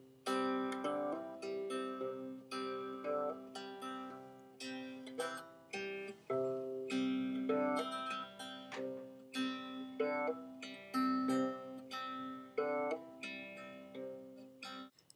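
A single guitar chord picked by alternating two fingers in a simple repeating pattern, ringing steadily with clear plucked notes, solo and close, without speech.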